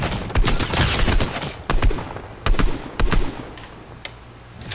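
Gunfire in a Fortnite fight: several sharp, loud shots spaced irregularly over a few seconds, with a continuous rough background of game noise.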